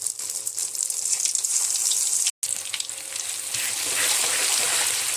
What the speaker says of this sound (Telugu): అల్లం వెల్లుల్లి పేస్ట్ అయితే వేసేస్తున్నాం ఆయిల్లో చక్కగా వేగిపోవాలన్నమాట